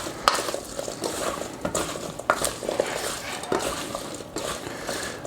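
Seasoned potatoes tossed with oil in a bowl, a utensil scraping and clinking against the sides in uneven, repeated strokes, close and moderately loud without talk.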